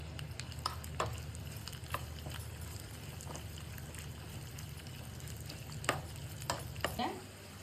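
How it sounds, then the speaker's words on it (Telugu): Cashews and raisins roasting in a pan for jaggery rice, giving a steady low sizzle with occasional stirring scrapes and clinks throughout. "నెక్స్ట్ కొంచెం జీడిపప్పు, కొంచెం కిస్మిస్, ఇది కూడా దాంతో పాటు రోస్ట్ అవ్వాలి"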